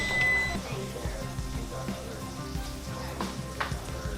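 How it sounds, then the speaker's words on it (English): Steady sizzling and crackling of eggs frying in a hot pan, continuous throughout, with faint clinks and soft background voices. "So now I'm gonna fry the eggs"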